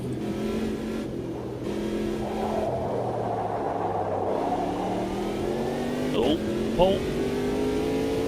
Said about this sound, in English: Is this a V8 diesel, is it?